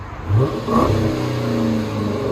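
A Chrysler 300S 5.7L HEMI V8 with a rear muffler delete blips and rumbles loudly up close, its open exhaust giving a deep, burbling growl that settles into a throaty idle.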